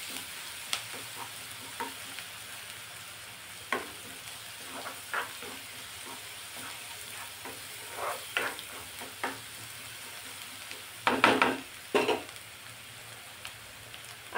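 Ginger garlic paste and chopped onion sauté in a pan, a quiet steady sizzle broken by scattered stirring scrapes and a louder clatter near the end.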